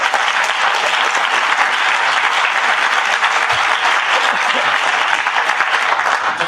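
An audience at a congressional campaign debate breaks into loud, dense applause that holds steady for several seconds, a thick wash of many hands clapping at once.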